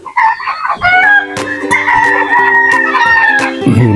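Pet chickens calling loudly and close by, with strained, tonal clucks and crow-like cries that overlap and run on continuously, with no talk.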